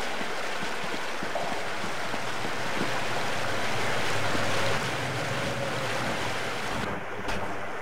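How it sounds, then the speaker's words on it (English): A waterfall in Half-Life: Blue Shift gives off a steady, dense roar of rushing water that stays loud and constant throughout, briefly dipping near the end, with no voices. "Pretty neat waterfall, though."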